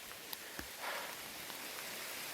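Soft, steady rainfall hisses evenly on a mountain hike, with a few distinct drops tapping nearby; faint and continuous with no talking.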